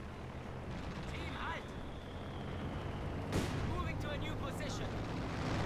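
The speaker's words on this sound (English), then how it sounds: "I'm bringing out the rocket barrage on top of those tanks and the flag zone." Rocket artillery barrage in Company of Heroes 2 on the Port of Hamburg map, a steady dense rumble with one sharper impact partway through, under talk.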